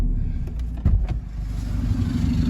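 A remapped 2020 1.9-litre pickup engine fitted with a wastegate canister rumbles loudly through an exhaust pipe exiting under the driver's side, holding a deep steady drone with a quick blip of throttle near the start.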